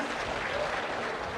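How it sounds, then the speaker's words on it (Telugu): An audience at an official meeting claps together, a dense, even patter of many hands that holds steady at moderate loudness through the short stretch. "గట్టిగా చప్పట్లు కొట్టి అభినందించండి."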